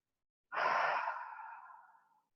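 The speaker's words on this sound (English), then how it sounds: "Exhale everything out." A single deep exhale during a yoga-style breathing exercise, a strong breathy rush that starts abruptly and slowly fades out over about two seconds, close and alone with no talk.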